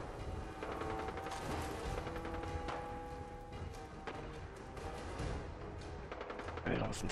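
Gunfire in the video game Fallout 4, with dense, continuous bursts of shots and mechanical clatter over a loud game soundtrack and battle noise, while a player talks throughout.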